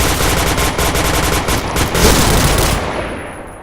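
Rapid automatic gunfire rattles continuously in the Point Blank shooter, dense loud bursts close up that cut off near the end, with no talk over them.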